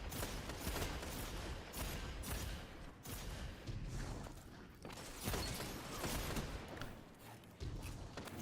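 Rapid gunfire from a gunfight in Destiny PvP bursts in dense clusters of sharp reports with brief gaps between volleys, loud and continuous throughout.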